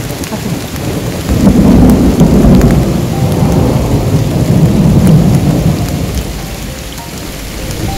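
Heavy rain pours steadily near post 4 on Mount Slamet, with deep thunder rumbling through it, loud and close from start to finish.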